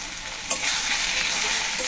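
Ginger paste, cumin paste, turmeric and salt sauté in a pan for a pumpkin-greens dish, making a brief, bright, continuous sizzle with a light stirring knock near the start.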